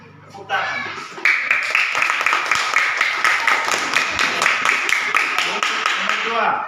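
Children in a fourth-grade classroom clap their hands together in a loud, steady rhythmic burst of repeated claps, close and lively, running for several seconds after a brief spoken lead-in.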